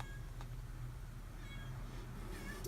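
A single faint cat meow over a quiet steady background hum, short and soft.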